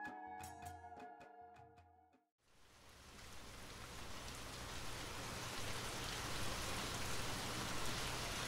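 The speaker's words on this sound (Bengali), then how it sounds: "চারপাশে তুমুল ঝড় বৃষ্টি হয়ে চলেছে।" Heavy rain roars steadily and densely, building in intensity after a short musical intro fades out.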